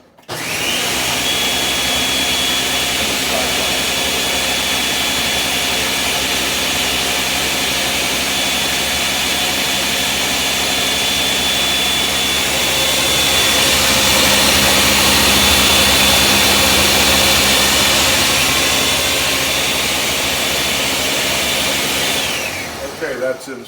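A food processor runs continuously, pulsing tomatoes with olive oil: a loud, steady motor whir and blade churn close by for over twenty seconds, swelling slightly midway before stopping abruptly.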